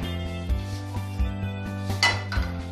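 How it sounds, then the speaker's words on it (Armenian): A frying pan set on a gas stove at the start of making onion sauce for spaghetti gives a few distinct metallic clanks and knocks, spaced about a second apart, over a soft background tone. "տապակի իսկույն հայտնվում է գազ օջախին"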